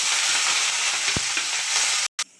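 Loud, steady sizzling of onion, garlic and curry leaves frying in hot oil, with a brief soft knock partway through before the sound cuts off near the end.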